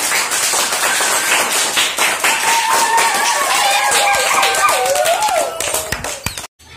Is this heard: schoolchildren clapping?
yes